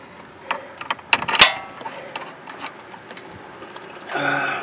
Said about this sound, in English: now we're able to put the bolt in it here.